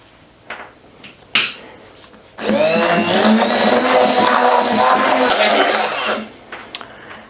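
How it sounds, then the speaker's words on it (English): A stick blender whirs through thick sweet potato chocolate icing for a vegan, oil-free cake, a steady close motor hum lasting several seconds after a few clicks and clatters, then cutting off. "now I'm just gonna blend it with my stick blender"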